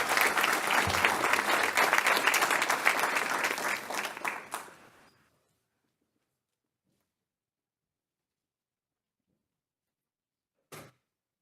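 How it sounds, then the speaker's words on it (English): Audience at a school board of education meeting applauds the evening's honorees, a strong round of clapping that fades out after about five seconds, followed by silence and a single brief knock or door sound. "If we can have one final applause for everyone who was honored tonight"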